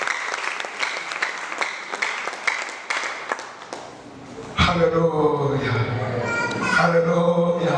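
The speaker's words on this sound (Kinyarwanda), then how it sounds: "Reka dukomere Imana amashyi meza." Applause from a church congregation during a sermon, a dense patter of claps for about four seconds before it gives way to loud singing and speech.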